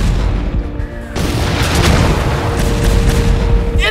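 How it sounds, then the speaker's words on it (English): Rocket explosions hit a backyard battlefield of toy army men in an animated war scene: a heavy boom bursts in after a quieter moment, followed by sustained loud rumbling blasts and crackling debris, with no voices. "Incoming rockets!"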